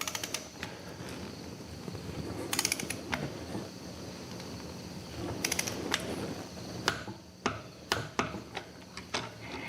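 Torque wrench tightening the front axle nut on a Suzuki TS50 motorcycle, heard as a low mechanical grinding with scattered sharp metallic clicks and ticks, which grow more distinct and spaced out toward the end.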